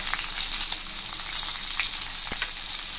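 Stuffed okra fries in oil in a pan, a loud, close, steady bright sizzle crackling without pause, with one brief knock near the end.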